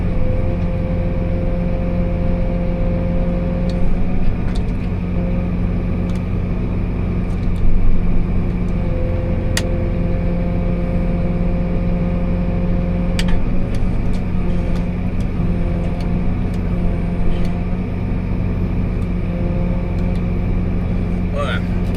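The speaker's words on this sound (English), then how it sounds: "We got one car coming" A car passing on a road while a Pro-Till implement is towed: steady low engine rumble throughout with a few brief louder swells, a nearby vehicle engine droning underneath, no talk.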